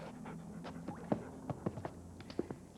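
A dog pants in short, rapid breaths under a low background hum, with a few sharper sniffs and soft thumps scattered through the brief stretch.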